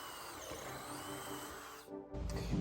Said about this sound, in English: I'm going to drill my holes straight down through.